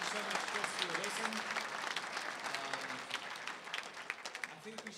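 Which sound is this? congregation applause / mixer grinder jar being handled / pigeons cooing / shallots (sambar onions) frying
congregation applause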